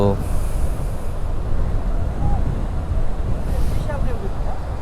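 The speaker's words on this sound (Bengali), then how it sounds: "হ্যাঁ হ্যাঁ, সমুদ্র উত্তাল, রাইট রাইট, উত্তাল সমুদ্র।" Rough sea surf at Kuakata beach roars continuously and loudly, with wind buffeting the microphone and faint voices in the distance.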